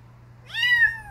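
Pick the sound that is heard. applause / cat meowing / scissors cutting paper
cat meowing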